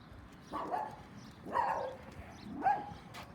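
Dog barking outdoors, three separate barks spaced about a second apart, moderately distant and fairly quiet over a low background.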